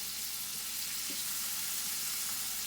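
Scallops searing in a hot pan give a steady, even sizzle that holds at the same level throughout, close by, with no talk.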